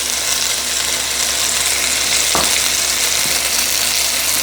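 Pork chops sizzle steadily in a hot frying pan, a continuous close hiss throughout with a brief clatter near the middle, no talking.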